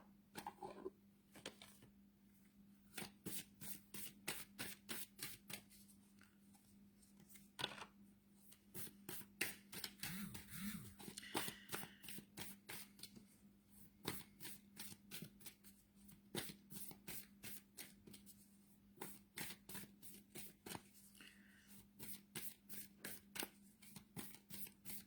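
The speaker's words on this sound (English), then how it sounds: "Let me just pull one more card for you." A deck of psychic reading cards being shuffled, with repeated rapid riffling bursts of crisp card flutter over a steady low hum, fairly close and with no talking.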